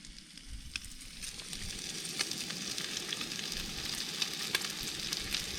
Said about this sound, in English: let's flip the bacon.